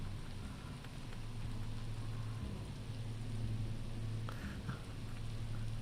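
Rain ambience in the Biomutant video game hisses steadily over a low, droning hum, soft and continuous with no speech.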